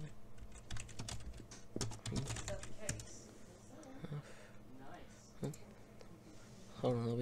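Keys clack on a computer keyboard while someone writes script in Roblox Studio, a quick run of taps at first, then quieter sparser clicks with faint background noise.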